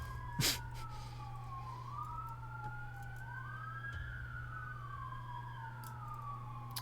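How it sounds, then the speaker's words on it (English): Emergency sirens wail from a distance, two overlapping tones rising and falling slowly against each other, fairly faint over a steady low drone with a sharp knock near the start. "If you can hear the sirens."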